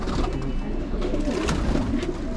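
Pigeons, kept as fancy pet birds, coo loudly and close by in a steady, overlapping murmur of throaty calls throughout.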